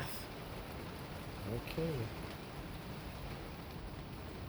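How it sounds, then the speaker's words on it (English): Steady rain falls outdoors as a continuous soft hiss near a running Emerson ceiling fan, with a brief spoken word from a man partway through. "Now it's raining."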